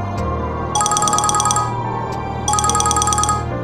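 A mobile phone ringtone plays twice in loud, bright electronic trilling bursts, each about a second long with a pause between, over a low humming background score.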